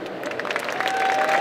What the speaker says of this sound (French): Et le jury est applaudi.